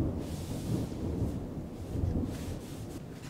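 Low rumbling thunder from an approaching storm rolls continuously, swelling and fading in long waves with a faint hiss of rain, no voices.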